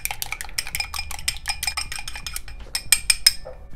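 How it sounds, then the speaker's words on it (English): Light, quick clinking of a utensil beating eggs in a bowl for oyakodon, a steady run of close, sharp ticks with a few brighter chimes near the end. "Next, I want to prepare the egg. So I'm just gonna beat it lightly."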